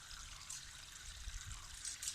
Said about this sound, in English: my water tank has been filling.